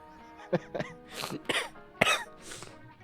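Several rough, breathy coughs, close and fairly loud, come in short bursts with small pauses between them, ending with a throat-clearing hack.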